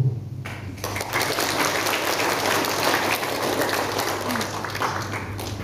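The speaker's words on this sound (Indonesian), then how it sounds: "disambut tepuk tangan ratusan hadirin yang hadir" Hundreds of attendees at a Pilkada 2024 campaign rally in Malaka applaud, the clapping swelling quickly and holding as a dense, continuous wash with crowd noise beneath.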